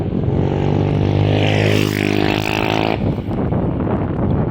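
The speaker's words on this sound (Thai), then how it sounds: "ขี่มอเตอร์ไซค์เข้ามาได้นะครับสะพานนี้" A motorcycle rides onto a fish landing pier by the sea, its engine droning loudly and rising in pitch as it passes close, then dropping away into wind noise.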